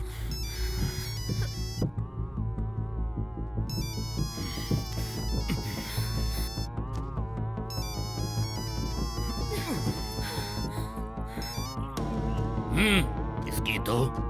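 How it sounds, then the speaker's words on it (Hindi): A phone rings on and on without being answered in a Hindi-dubbed action film, its repeating electronic tone set against a dramatic score. "फोन क्यों नहीं उठा रहा वो?"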